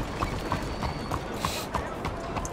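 Horse hooves clip-clop at a steady trot in the Red Dead Redemption 2 video game, a regular run of moderate, close thuds over a constant ambient bed with faint speech-like sound.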